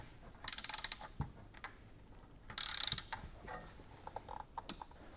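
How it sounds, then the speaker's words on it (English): A ratchet tightening nuts onto Volkswagen engine tin: quick bursts of clicking pawl strokes, close and fairly quiet, separated by short pauses with light metallic handling noises. "we'll put some washers and nuts on those, tighten those down to"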